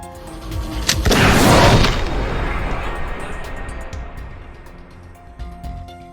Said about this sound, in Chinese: 要知道在加油站开枪很可能会引爆这里，但世孝没有丝毫犹豫，扣动了扳机